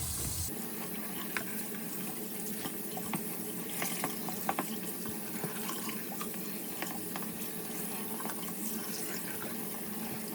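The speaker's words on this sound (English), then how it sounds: "So just rinse out all the detergent really well." Tap water running steadily into a sink while detergent is rinsed out of a hat, a continuous close splash and gurgle with small sloshing bursts as the hat is worked under the stream.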